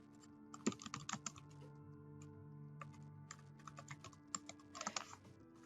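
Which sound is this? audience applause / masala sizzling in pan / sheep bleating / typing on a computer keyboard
typing on a computer keyboard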